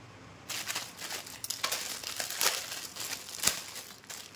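Small plastic chow mein noodle packets being cut open up close, a quick run of crinkling and tearing crackles after a brief quiet start, with sharper snaps near the end.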